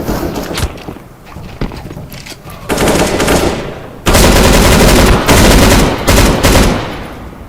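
Gunfire in Counter-Strike: Global Offensive, with sparse single shots and footsteps giving way to loud, sustained bursts of automatic fire that stop and restart several times, close and dominant.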